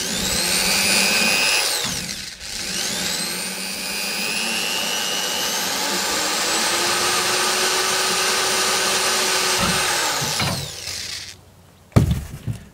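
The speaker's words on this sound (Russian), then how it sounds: "И здесь вот делаем отверстие. Саморез попадает точно в брусок." A power drill drives a self-tapping screw into a wooden beam while a house is being built in a village. The motor whines steadily and close for about ten seconds, then stops, and a single knock follows.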